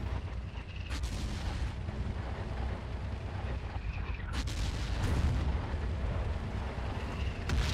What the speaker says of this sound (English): That looked like a really good shot from Fear of the Dark there